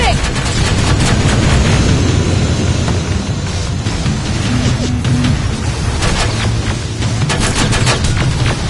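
Sustained machine-gun and rifle fire rattles loudly through a PS5 game battle, dense and continuous with booming impacts, while shouted voices cut in over the shooting.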